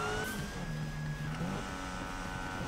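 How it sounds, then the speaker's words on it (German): Police siren in the Need for Speed (2015) racing video game, a wailing tone that rises and falls over steady car engine noise, fairly loud, with no talking. "eine Sirene klingt aber auch nicht gesund, oder?"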